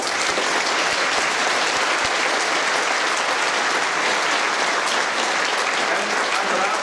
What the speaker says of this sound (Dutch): Ook uw applaus voor onze begeleider Bas Verheijden.